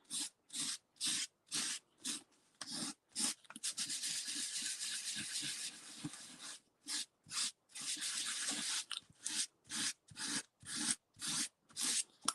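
Paper inked green is rubbed over a garden leaf to take an imprint, giving repeated close scratchy rasping strokes in an even rhythm, with a longer continuous rubbing stretch in the middle.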